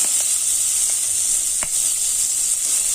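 Shallots, green chilies, curry leaves and a pinch of asafoetida fry in hot oil for a plantain stir-fry, giving a steady, close sizzling hiss with a few faint pops throughout and no talk.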